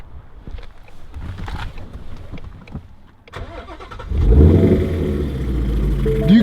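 A Ford Mustang GT with a Borla S-Type exhaust cranks and roars to life, then settles into a loud, rumbling idle close by after some quieter clicks and handling noises.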